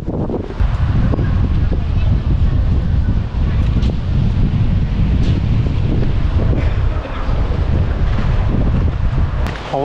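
Strong gusting wind in a cemetery in St. Petersburg, Russia, buffets the microphone in a steady low roar throughout, close and loud.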